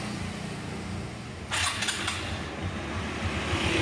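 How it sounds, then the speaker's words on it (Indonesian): An electric starter whirs briefly, then a 2010 Suzuki Skydrive scooter engine catches and settles into a steady, rattling idle, fairly close. "Oke, ini untuk starter dan suara mesin ya."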